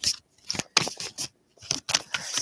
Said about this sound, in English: I'm going to stop shuffling for now